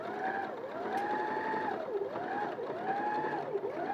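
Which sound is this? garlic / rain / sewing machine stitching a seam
sewing machine stitching a seam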